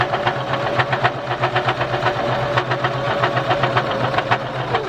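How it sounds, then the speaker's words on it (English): Sewing machine stitching slowly through folded denim: a steady, evenly paced mechanical chatter of needle strokes under a constant motor hum, loud and close for several seconds. "And just sew it a little bit slower."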